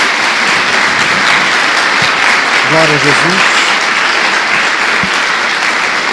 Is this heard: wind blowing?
no